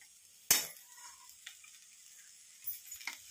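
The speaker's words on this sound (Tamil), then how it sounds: "இப்போ இதில் வந்து நான் தேங்காய் ஆட் பண்ணிக்கிறேன்" Grated coconut tipped into a frying pan and stirred, giving one sharp clatter of spoon on metal followed by soft scraping and a faint sizzle, with a few light clinks near the end.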